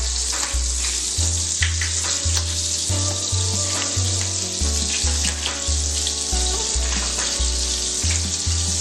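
Cumin seeds crackle and sizzle loudly in hot melted butter in a pan for a home-made paneer butter masala, a steady dense frying hiss with no one speaking.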